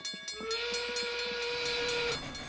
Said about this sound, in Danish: Og så er det nu, vi skal have tog nummer 1 til perron.